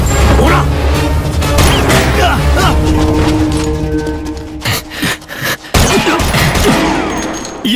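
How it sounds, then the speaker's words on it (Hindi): Gunfire and crashes in a dubbed Hindi action film scene, dense overlapping shots and impacts over loud music, with brief drops near the end. "ये तो गोली ऐसे चला रहे हैं जैसे पटाखे फोड़ रहे हैं।"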